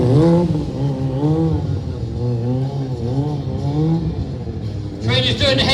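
A stunt motorcycle engine revs while circling in a wheelie at a rod and custom show in Malvern, a loud, close, wavering drone that rises and falls, with a voice talking over it.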